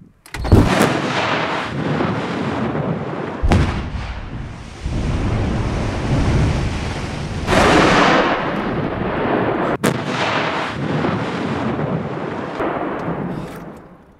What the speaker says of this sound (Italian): Giro su sparo e salterà in aria tutto.